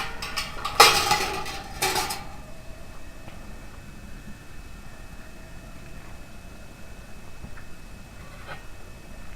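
Glass canning jars clink and rattle against metal as they are lowered into a water-filled pot, a brief cluster of clatter followed by quiet simmering background noise.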